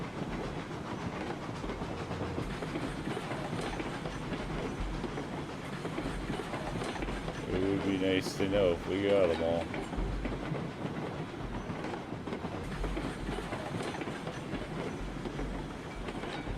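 A heavy loaded coal train in the video game RailRoads Online rumbles and clatters steadily, with a brief hiss or whistle midway while someone talks over it.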